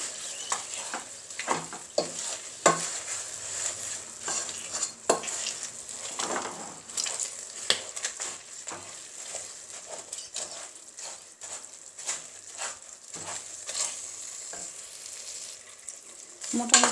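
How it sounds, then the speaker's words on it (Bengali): Soft plums in a pan, pressed with a wooden dal masher while cooking for a sweet-sour pickle, making repeated scraping, squishing stirs and light pan clatter over a low sizzle, close and continuous, with no talking. "এখন আমি বড়িগুলোকে এই যে এরকম যে ডাল ঘুটনি আছে বা যে কোনো জিনিস দিয়ে একটু চেপে নরম করে দেয়া"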